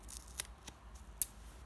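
Scissors snipping around a plexiglass licence plate, a few quiet crisp cuts spaced apart, the sharpest near the end, in a quiet room.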